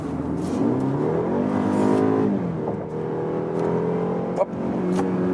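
A 4-cylinder BMW X3 30i in sport mode accelerates hard from 70 to 100 km/h, heard from inside the cabin as a steady rising engine drone that climbs in pitch, briefly dips at a gearshift, then pulls on again.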